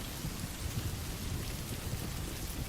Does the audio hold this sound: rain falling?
yes